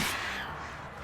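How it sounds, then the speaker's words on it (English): Crows cawing in the horror video game Alan Wake, one harsh caw at the start fading into an eerie ambient hiss for about a second. "I hate these fucking birds, bro."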